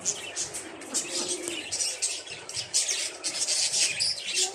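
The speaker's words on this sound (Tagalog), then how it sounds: "Look at the bird." Birds calling at Long Beach, with pigeon- or dove-like coos mixed among bright chirps and tweets, a steady chorus at moderate distance running throughout.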